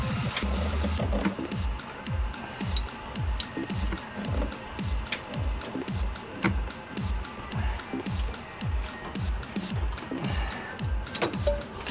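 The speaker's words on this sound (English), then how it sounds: "so now I can tighten up that top one." A socket wrench ratchets an alternator bolt tight on a 2006 Scion tC, a steady rapid clicking rhythm repeating close up over constant background noise.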